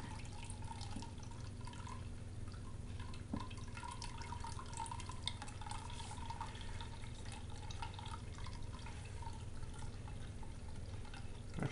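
Water runs steadily from a tap over a gold panning setup, a constant close trickle and splash with faint drips, alone with no talking.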